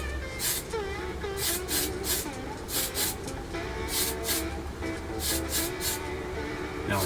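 An aerosol can of primer sprays onto the inside of a 1/24 scale Porsche 911 GT3 model car in a series of short hissing bursts, close up, over a steady background hum.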